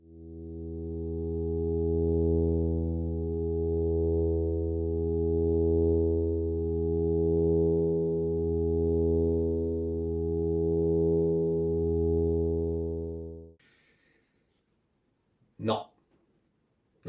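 A sustained pure tone stacked with its natural harmonics, held loud and steady for about thirteen seconds with slow swells, then cut off, followed by a brief voice.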